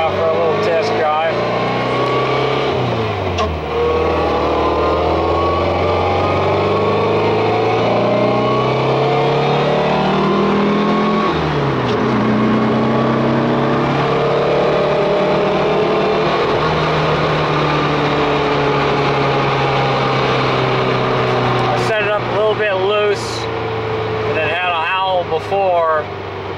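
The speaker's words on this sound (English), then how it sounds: "Alright, we're out for a little test drive." A VW car with an upgraded transmission drives on a test run, its engine droning loud and close while it rises and falls through gear changes, with a brief rattle near the end.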